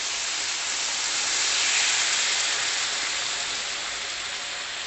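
Thin coconut milk poured into a hot pan of fried chillies for fish molee, a steady close hissing sizzle that holds evenly throughout without any talk.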